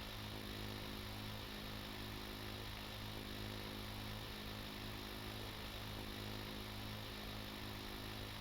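A deep-water drill runs in the building game Stormworks, giving a steady, dense mechanical drone with a low engine-like hum and broad whirring noise that holds constant throughout, with no talking.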